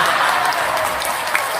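Dense, loud clapping from a crowd at a religious sermon fills the short clip evenly, with a faint murmur of voices beneath it.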